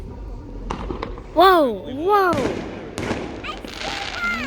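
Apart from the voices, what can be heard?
fireworks exploding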